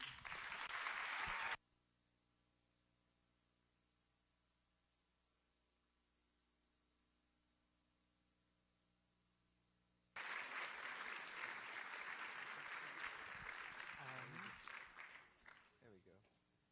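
An audience breaks into loud, dense applause welcoming physician Dr. Paul Farmer to the stage, a brief burst that cuts off, then resumes for several more seconds before gradually tapering.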